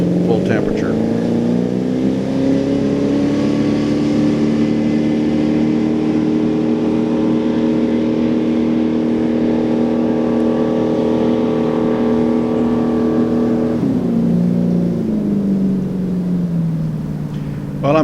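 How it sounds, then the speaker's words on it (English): Restored boat's engines on a full throttle run once warmed to full temperature, a loud steady roar of harmonic tones holding through most of the run, then dropping in pitch as they throttle back near the end, with speech faintly beneath. "Here we're going to be ready for our first full throttle run after the engines come up to full temperature."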